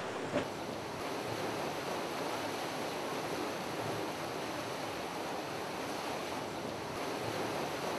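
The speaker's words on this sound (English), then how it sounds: "The water wheel is what is known as an undershot water wheel, because the water is shooting under the wheel." Undershot water wheel turning in rushing water at a Victorian heritage event, a steady broadband roar of flowing water close by, with no talk.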